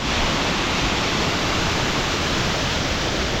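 A small waterfall in a forest on an uphill mountain route gives a steady, loud, unbroken rush of falling water that fills the whole moment with no voices.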